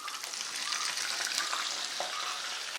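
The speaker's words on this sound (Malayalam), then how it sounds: "അപ്പോൾ അതേ നമ്മുടെ എണ്ണ നന്നായിട്ട് ചൂടായിട്ടുണ്ട്. ഈ സമയത്ത് നമുക്ക് മീൻ ഇട്ട് കൊടുത്തേക്കാവേ." Fish sizzles and spatters in hot oil in a pan, a loud, steady crackling fry that runs unbroken and then cuts off abruptly, with no talk.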